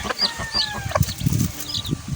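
Chickens cluck in short bursts close by, with a few brief squawks and a faint flutter of wings, in a farmyard where birds are being tended and caught for dry feet treatment with VCO.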